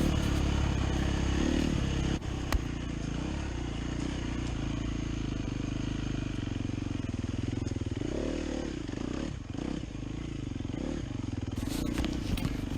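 A 2015 KTM 250 XCW two-stroke dirt bike engine buzzes steadily and loudly throughout, rising and falling with throttle as it rides, with rattling and wind noise and no clear talk.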